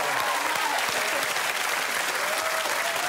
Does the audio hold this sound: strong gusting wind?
no